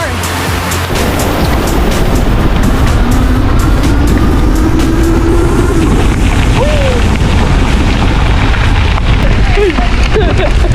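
Heavy rain during a thunderstorm on a Virginia mountain trail, heard during an e-bike ride as a loud, constant rushing hiss mixed with wind buffeting, with riders talking and shouting over it.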